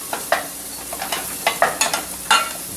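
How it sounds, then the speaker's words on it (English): Sautéing onions in a pan while a utensil stirs them, with a steady sizzle under a run of distinct scraping strokes, close and moderately loud, no talking. "Give this a stir. Saute to get them nice and soft."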